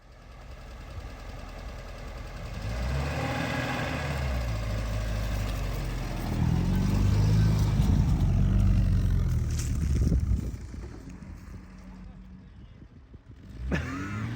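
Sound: car engine revving

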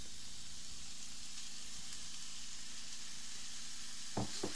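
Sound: ground beef frying and being stirred with onions in a pan

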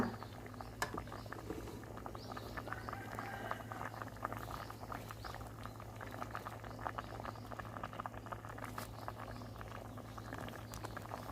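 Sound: Thai bamboo shoot curry boiling in a pot

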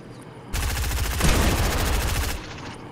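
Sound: gunfire in the video game Fortnite

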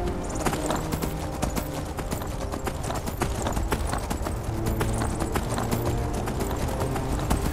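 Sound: horse hooves clip-clopping in Skyrim video game

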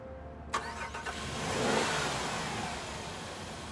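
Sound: car engine starting

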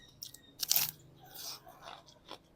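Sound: chewing crunchy food

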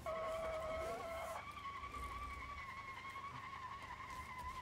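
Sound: Ibishu Pigeon wheel spin in BeamNG.drive video game

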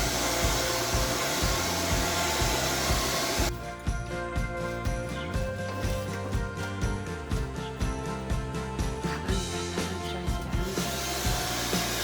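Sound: comb-shaped hair dryer drying hair

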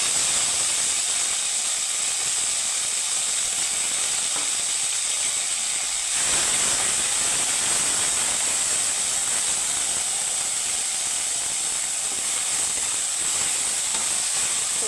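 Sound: boiled drumstick greens added to fried five-spice in pan

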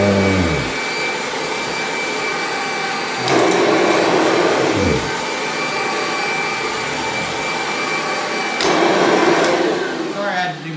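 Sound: Hoover G4 vacuum cleaner picking up dust

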